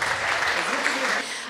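Audience applause at a culinary heritage event honoring local cooks, a short burst of dense clapping with a voice talking over it.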